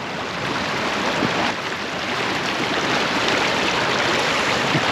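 Steady broadband rush of water sprayed and churned as a water skier passes through Leicestershire floodwater, loud and continuous without voices.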